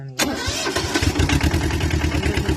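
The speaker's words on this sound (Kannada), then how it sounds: "ಗಾಡಿ ಸ್ಟಾರ್ಟ್ ಆಗಿದೆ." A vehicle engine cranks and catches after its fuel lines have been bled of air, then settles into a loud, close, rhythmic chugging idle that continues to the end.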